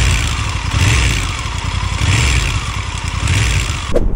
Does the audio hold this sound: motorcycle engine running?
yes